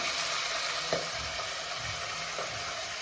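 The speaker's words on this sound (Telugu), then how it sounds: "ఇప్పుడు మనం ఫ్రై చేసుకున్నాం ఈ పచ్చి వాసన పోయే వరకు మనం ఫ్రై చేసుకోవాలి" Ginger paste and curry leaves fry in a pan with a steady close hiss and sizzle, broken by a couple of soft stirring scrapes.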